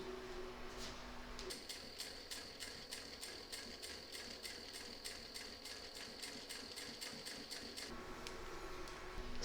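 A sewing machine stitches through quilt layers a hair's width beside a stitch line on a reversible quilt, giving a steady rapid run of needle strokes for about six seconds between quieter handling noise.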